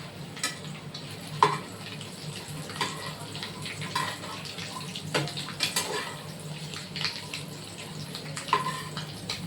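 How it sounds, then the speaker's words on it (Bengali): An egg fries in a pan after being flipped, giving a low, steady sizzle with scattered soft scrapes and clinks of a utensil against the pan. "আমি ডিমটাকে এবার উল্টিয়ে দেবো।"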